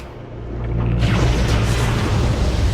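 An explosion in the Metroid Prime video game: a loud, close, rumbling blast that swells over a second and holds as a dense roar, with no talk over it.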